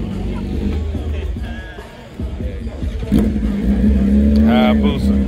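BMW S1000 motorcycle engine revving nearby on a street ride, rising in pitch under steady traffic noise and close conversation.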